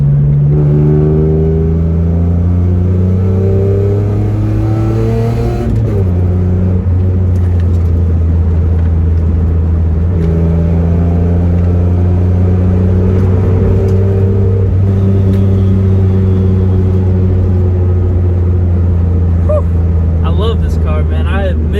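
A third-generation Mitsubishi Eclipse fitted with BC Racing coilovers is driven hard, heard from inside the cabin. The loud engine drone climbs in pitch, drops at each gear change and rises again.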